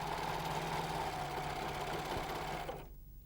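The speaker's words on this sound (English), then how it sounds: "Now you can sew, guiding the cord underneath the groove." A Janome 6234XL overlocker stitching piping cord into fabric, a fast steady mechanical whir with a constant hum, close and alone, stopping abruptly just before the end.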